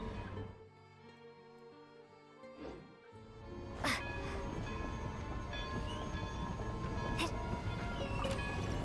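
A train arrives in a snowy video game setting, its rumble and rail noise swelling abruptly and then staying loud and steady, with a brief horn-like tone partway through.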